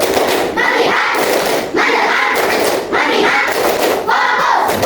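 Children in an Indonesian classroom perform a rhythmic focus clap, loud group claps falling in patterned bursts with short pauses between, with young voices chanting along.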